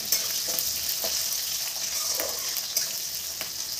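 Chopped onion sizzles and fries in hot oil with cumin, mustard seeds, garlic and green chillies, a steady close crackling hiss broken by a few stirring knocks, with no voices.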